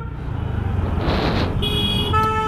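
Nighttime road traffic on the way to Panvel, a loud rumble of passing vehicles close by, then a sharp car horn toot near the end.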